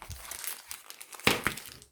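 A Pokémon card tripack's plastic packaging is torn open by hand without scissors: close, soft crinkling, then a sharper ripping burst near the end.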